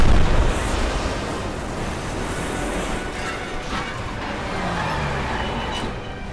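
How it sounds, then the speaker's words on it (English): A loud explosion from the Final Fantasy VII Remake demo opens with a heavy blast, then settles into a sustained roaring rumble with crackling debris that continues for several seconds. "the explosion here is devastating"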